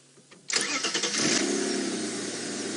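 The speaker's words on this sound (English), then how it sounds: "we're just going to switch on and let the engine run a little bit" Safari game-drive vehicle engine cranking and catching, then settling into a steady close idle, preceded by faint quiet background.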